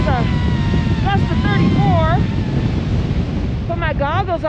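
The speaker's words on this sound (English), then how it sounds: "There was a gust of 30 just there." A strong, steady gust of wind roars across a snowy mountain loch with deep snow, buffeting loudly and without pause, while bird-like chirps and whistles rise briefly over the blustery noise.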